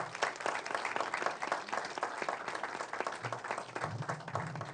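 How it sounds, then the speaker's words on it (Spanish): Audience applause at an anticorruption meeting, steady dense clapping from a crowd for the full stretch, fairly distant and even in level. "quiero pedirles también para ellos un fuerte aplauso"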